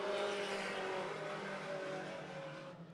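Several race cars in a close three-car breakaway roar past, engines droning loud and steady before easing slightly as they move off.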